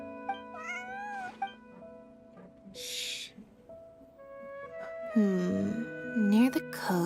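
In-game cat meows from Genshin Impact, several short rising and falling meows scattered over soft background music, with a brief hiss-like burst and a voice speaking in between.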